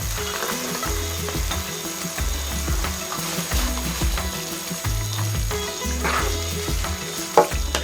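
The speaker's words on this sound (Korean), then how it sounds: "줄기콩과 당근을 넣습니다." Green beans and carrots hit a hot pan for dal makhani and give a loud, continuous sizzle and fry, with stirring scrapes and a few clinks over it, close up and without any talking.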